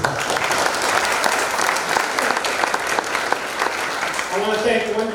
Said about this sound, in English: So a round of applause to the Hall of Fame committee.